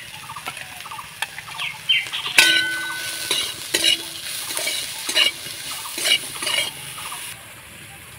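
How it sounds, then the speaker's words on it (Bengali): Vegetables for a homemade semolina idli sandwich are stirred and lightly fried in a pan. A spatula scrapes and clinks in irregular strokes over a soft, steady sizzle. "সবজিগুলোকে একটু নাড়াচাড়া করে আমি ভেজে নেব হালকা"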